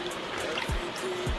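Running water rinses off a baking soda and honey lip scrub, a soft steady trickle with a couple of low splashy dips.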